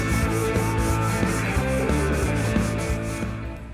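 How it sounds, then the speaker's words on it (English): A sanding block is rubbed by hand across a car fender during finish sanding, giving a steady, close, scratchy rasp that repeats in quick strokes for the whole stretch, with no talking. "I get the joy of finish sanding this fender"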